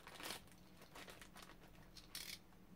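Crinkling of a plastic bag holding a newly bought knife, close and quiet, coming in irregular bursts of rustling with short pauses between handlings.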